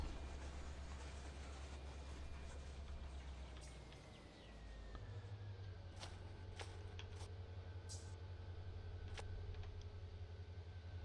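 A train rolls slowly along the rails with a deep steady engine rumble and occasional sharp metallic clicks and squeals, heard from close by for the full length with no speech.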